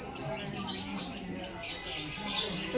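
Many small lovebirds chirp and tweet at once in a busy, overlapping chatter, fairly close, with faint background murmur, in Darjeeling.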